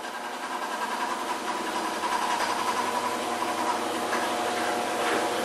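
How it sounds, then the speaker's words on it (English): A washing machine churns a load of two blankets in a nearby room, a steady mechanical hum and rhythmic whir running continuously at moderate distance without speech. "Y'all hear that washing machine in there?"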